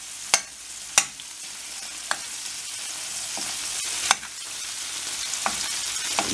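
Red peppers and cheese fry in a steel pan over high heat, giving a continuous sizzle broken by several sharp metallic clinks from a steel spoon.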